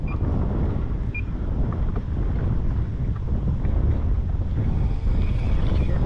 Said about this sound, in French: Mais le problème c'est qu'il y a un vent fou.